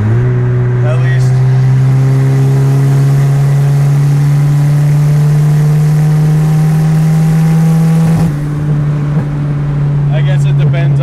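Turbocharged wagon engine held at high revs under about 24 psi of boost, a loud, sustained droning tone close by that wavers and breaks up near the end; people talk over it.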